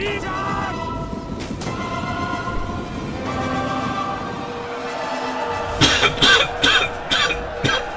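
A few sharp coughs close to the microphone near the end, over a steady background of Total War: Rome 2 game music and ambient noise.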